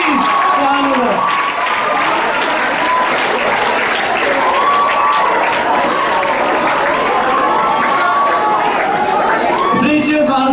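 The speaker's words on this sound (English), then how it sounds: "I think our tech team deserves an incredible round of applause for that" A large audience at a 2019 model UN closing ceremony gives loud, sustained applause for the tech team, a dense wash of clapping with cheers and voices rising over it throughout.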